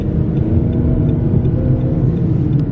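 A car cruising along a road in winter, its steady engine hum and low tyre rumble heard close up from inside the cabin while overtaking a slow vehicle ahead, continuous with no voices.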